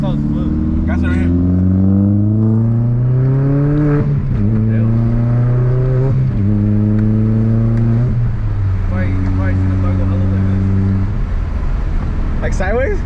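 VW MK4 GTI with a shortshifter, its engine revving up repeatedly through several gear changes, loud and close, with rising pitch sweeps and brief drops between pulls as people talk inside the car.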